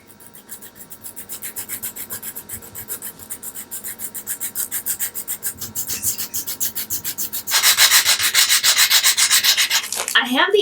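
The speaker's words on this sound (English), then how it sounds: "So I'm just going to take a little sandpaper, or a little emery board is fine too." Small cast resin acorns sanded by hand with sandpaper: a close, steady back-and-forth scratchy rasp in quick regular strokes that grows harsher and louder toward the end, with no talking.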